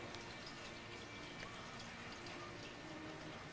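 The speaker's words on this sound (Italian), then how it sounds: "Avete visto come piove?" Steady hiss of rain falling, an even wash of patter with no pauses, fairly faint and unbroken.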